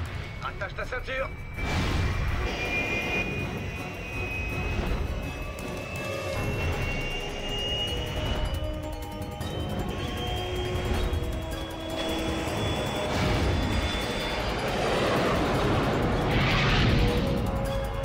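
Airplane engine drone with a slowly rising whine, heard in an action film scene set during an escape from Mexico, continuous under dialogue, shouting and other loud effects.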